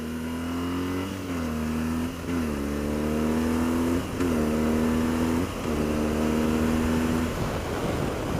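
A BMW R1200 GSA adventure motorcycle engine revs loud and close, climbing in pitch through several gears with brief dips at each shift, alone with no talk.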